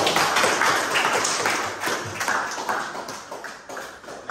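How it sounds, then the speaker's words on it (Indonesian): A classroom of students gives a round of brisk clapping for group 4, loud and close at first, then thinning and fading into scattered claps. "Tepuk tangan dulu untuk kelompok 4."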